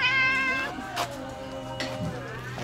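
A cat in Thailand gives a high, squeaky meow that slides downward, followed by a couple of shorter chirpy calls, close by with faint background noise.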